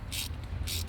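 A ratchet on a 17 mm deep socket clicks twice in quick bursts while loosening the coolant temperature sensor on a BMW 3 Series N47 diesel engine, close up.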